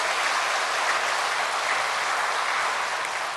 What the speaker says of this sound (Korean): 하나님께 영광의 큰 박수 합시다